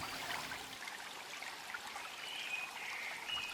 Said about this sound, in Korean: 흐르는 물소리를 들으며